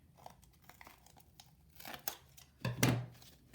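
Scissors snip and tear through cardboard while a letter sculpture is shaped, a few close crinkling cuts growing louder toward the end, with no talking.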